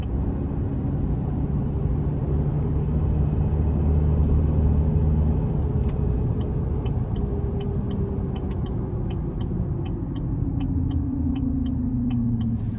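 Turbocharged engine of a 2024 Chevrolet Silverado Custom Trail Boss pulling hard onto an interstate, a steady low rumble with rising tone and road noise throughout, heard from inside the cab with no talking.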